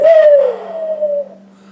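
One loud, close owl hoot sounds from a flute call, a breathy tone that slides gently down and trails off within about a second, alone.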